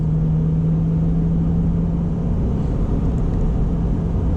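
A 2021 Chevrolet C8 Corvette engine drones steadily from inside the cabin while driving, a constant low hum with road rumble and no speech.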